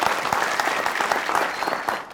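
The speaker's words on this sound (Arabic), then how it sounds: "صفقوا له" A studio audience at a satirical Arabic television comedy show breaks into loud, dense applause, many hands clapping continuously and close.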